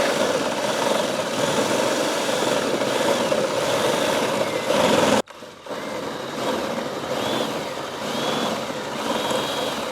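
A 1974 Camaro engine runs steadily at low RPM, a continuous broadband rumble that holds level for about five seconds, then cuts off abruptly and resumes at a lower, rougher level.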